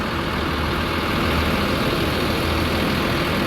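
Hino RK8 bus engine of the PO Gumarang Jaya coach idling nearby, a steady loud low rumble with even broadband noise and no voices.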